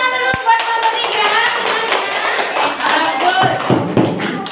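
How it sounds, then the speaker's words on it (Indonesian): Students in a classroom clap for group three, a lively burst of close hand claps mixed with taps and light thumps and some voices mingling in. "Tepuk tangan dulu buat kelompok tiga."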